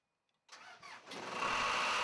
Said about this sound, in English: After all connections are made, start the air compressor.